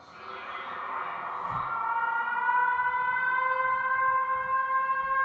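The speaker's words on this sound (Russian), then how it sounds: "пожарная тревога" A loud stadium fire alarm siren wails, rising from a rough swell into a steady sustained tone that holds unbroken, with faint background noise beneath.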